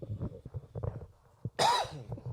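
One sudden, loud cough from a man close to a microphone, coming after a stretch of quiet, soft talk.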